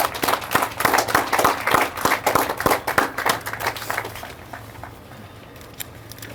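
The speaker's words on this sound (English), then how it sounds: "How about a round of applause for our Officer of the Month?" An audience at a police award ceremony applauds an officer of the month, a dense burst of clapping for about four seconds that quickly tapers off into quiet room tone.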